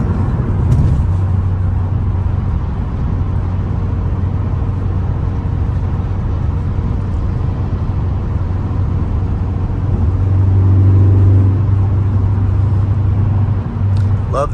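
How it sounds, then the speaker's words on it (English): A 2013 Ford Focus ST with a Magnaflow exhaust drives along, heard as a loud steady engine drone and road rumble from inside the car that swells briefly as the engine works harder near the end. "Love the exhaust on this car."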